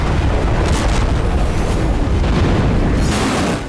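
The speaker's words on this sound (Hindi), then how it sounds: "ये तवेर में धमाके की तस्वीरें।" Explosions at a missile base in Tver, Russia, heard as a sustained heavy rumbling roar with several booming surges before fading at the end, loud and distant.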